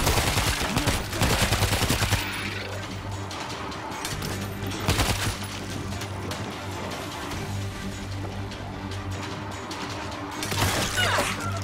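Rapid gunfire in the zombie shooter World War Z Aftermath, Moscow level, with loud bursts of automatic shots at the start and again midway, then a steadier background of combat noise and ambient rumble.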